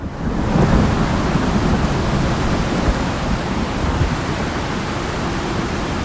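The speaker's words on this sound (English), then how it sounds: "Alright, so got a storm going on." A thunderstorm with heavy rain in the survival game Icarus: a dense, steady roar of rainfall with low rolling thunder rumbling underneath, constant and loud throughout with no voices.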